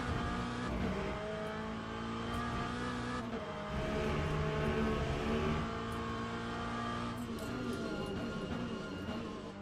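Hypercar racing engine in the sim racing game Le Mans Ultimate, a loud sustained high-revving whine with gear-change dips and tire noise, running continuously throughout.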